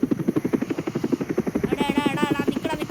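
A toy helicopter whirs close by with a fast, steady pulsing rotor buzz, and a thin rising whine joins in toward the end.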